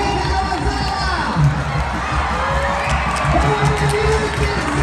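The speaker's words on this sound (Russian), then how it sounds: "Под аплодисменты зрительного зала." A circus audience cheers and shouts continuously, a dense crowd roar with children's voices and whoops throughout, loud and sustained.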